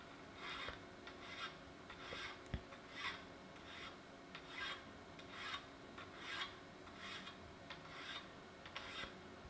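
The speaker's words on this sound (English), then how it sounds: "I will start filing the appropriate angle on the underside at a slight angle just below flat." Hand filing on the underside of a forged steel auger's cutting face, heard as a quiet, regular series of short rasping strokes repeated about once a second.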